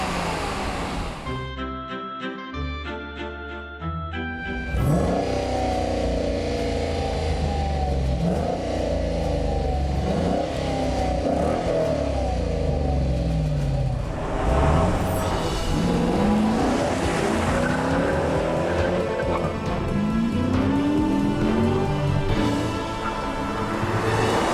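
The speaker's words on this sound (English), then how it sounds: "we're going to roll off together, and we're going to see against a known entity in the Challenger how fast the Tesla is" A Dodge Challenger's engine idles with a burbling rhythm, then a Tesla Model S and the Challenger accelerate hard side by side in a roll race, the V8 roaring and rising in pitch, loud and close throughout.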